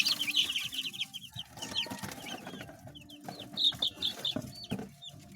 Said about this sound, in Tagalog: Yan po yung ating mga sisiw.